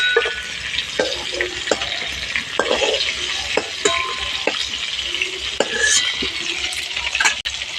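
Prawns frying in oil in a pan, with a steady close sizzle broken by frequent clinks and scrapes of a utensil against the pan, moderately loud throughout with no voices.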